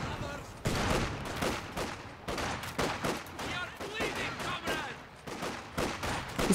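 Rifle and small-arms fire in the Company of Heroes 2 strategy game, a run of rapid, uneven cracks and bursts at moderate volume, repeating throughout with short gaps.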